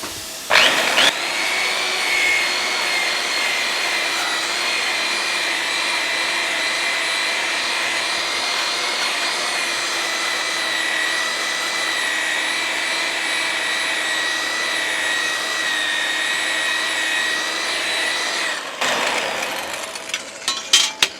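Handheld burnishing machine run on 2mm mild steel straight off a plasma cutter: a loud, sustained high-pitched motor whine with grinding abrasive hiss, starting abruptly and spinning down near the end.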